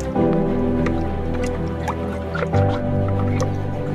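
An object is lifted out of clean water during a Harpic toilet cleaner test, water dripping and trickling off it steadily and close by over a low continuous hum, with no talking.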